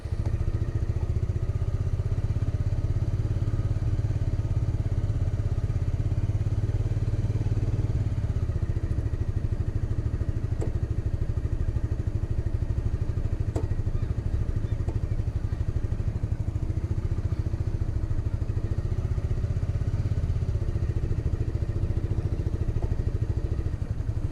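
A motorcycle engine runs at very low throttle through slow-speed maneuvers, a steady, even low rumble with small swells and no hard revving, continuing unbroken throughout.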